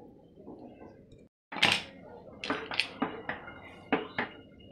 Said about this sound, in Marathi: कुकर मी दुसऱ्या स्टोववर शिफ्ट केला आहे